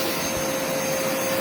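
Steady, loud vacuum cleaner motor running continuously with a constant whine and broadband rush, no voices over it.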